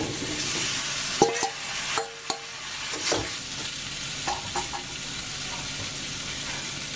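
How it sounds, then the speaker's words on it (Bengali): Raw banana pieces frying in a pan for a banana and rohu fish curry, a steady sizzle with a few clinks and scrapes of a spoon stirring against the pan. "এটাকে আমরা ভালোভাবে ভেজে নিব।"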